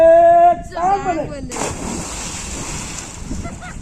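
A person plunges into flowing canal water, producing a loud broadband splash and churning rush after a brief vocal call at the start, then continued water turbulence.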